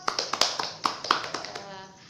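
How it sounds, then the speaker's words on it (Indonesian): A classroom group claps hands for all the groups after a lesson, about a dozen sharp, close claps in a quick uneven patter that thins out after a second and a half. "Tepuk tangan untuk semua kelompok."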